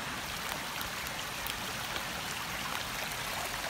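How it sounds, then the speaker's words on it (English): A forest stream on the Appalachian Trail in Wawayonda rushes and trickles steadily, a continuous close wash of flowing water with no voices. "The stream itself is actually nice to look at"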